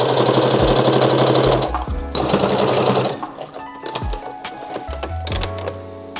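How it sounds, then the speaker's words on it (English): Sewing machine stitching the side seam of a summer dress, a loud steady motor whir in long bursts with short pauses and a few clicks between runs. "now I can just sew over that side seam"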